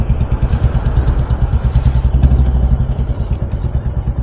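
A motorcycle engine chugs unevenly close by, loud rapid low thumping pulses with clattery irregular firing as it struggles and threatens to die, no voices.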